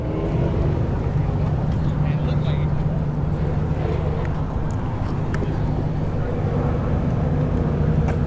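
A Golf GTI and a Camaro SS stage at a drag strip, producing a steady loud engine rumble and drone throughout, with voices talking over it.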